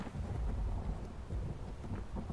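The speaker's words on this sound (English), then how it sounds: "This rain is not a warm summer rain, okay? This is a torrential cold downpour." Torrential cold rain in the horror game Phasmophobia, a dense steady roar of downpour with low rumbling, continuous and fairly loud.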